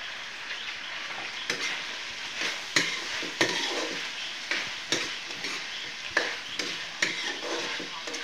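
Chayote stir-fried in a wok for chop suey: a steady close sizzle with scraping stirs and sharp clinks of a utensil against the pan, repeating every second or so.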